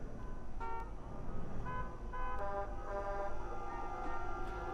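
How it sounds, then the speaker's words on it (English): Traffic ambience from the Abiotic Factor video game: a steady bed of road noise with several short, tonal horn-like toots scattered through it, all at moderate level with no talking. "I don't think I want the traffic sounds to be the sound that comes out."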